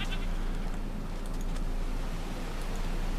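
A goat in a Minecraft-style video game bleats over a steady droning background, its short wavering calls repeating a few times at moderate loudness.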